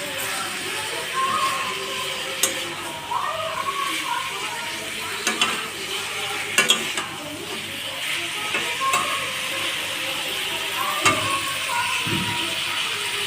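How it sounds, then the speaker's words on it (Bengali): Gravy for a magur fish curry cooks in a pan with a continuous moderate sizzle, occasional stirring scrapes and a few metallic clinks against the pan. "তো ঝোলটা আমি কষাতে দিচ্ছি, তারপরে মাছগুলো এক একে দেবো। ঝোলটা বসিয়েছি।"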